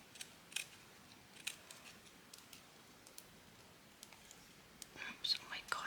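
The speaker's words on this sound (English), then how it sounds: "I'm going to cut a little bit of this netting off if I can." Scissors snip through a piece of netting in quick, faint, irregular cuts, soft crisp clicks spread over several seconds in a quiet room, with light whispery sounds between them.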